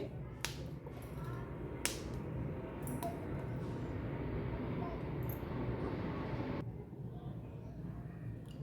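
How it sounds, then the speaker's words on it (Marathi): A kitchen mixer grinder purees green chillies, dry coconut, coriander, garlic and ginger into chutney paste. It gives a steady, loud whirring drone for several seconds, with a few sharp clicks on top and a slight drop in pitch near the end. "हे आपल्याला मिक्सरच्या भांड्यामध्ये छान बारीक करून घ्यायचे"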